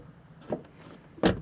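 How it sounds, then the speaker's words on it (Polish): Door of a 2014 Ford Focus ST Turnier estate car: a soft click as it opens, then a firmer, louder thud as it shuts about a second later, close by with no talk. "dźwięk otwierania i zamykania drzwi"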